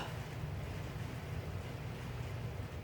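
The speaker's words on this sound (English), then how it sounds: "pouring rain right now" Heavy pouring rain during a California storm, a steady dense roar with strong low rumble, continuous and fairly loud throughout with no talk.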